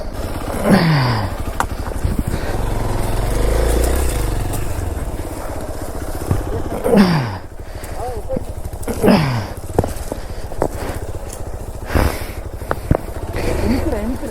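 An off-road motorcycle climbs a rocky forest trail, its engine revving up and dropping back several times, close and loud, with voices talking over it.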